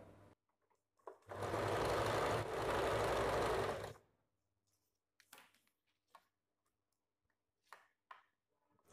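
A sewing machine stitches a sleeve into a blouse armhole in one loud, close burst of about three seconds. Faint handling clicks and rustles follow in the quiet afterwards.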